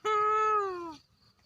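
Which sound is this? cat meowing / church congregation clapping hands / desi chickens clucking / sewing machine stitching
cat meowing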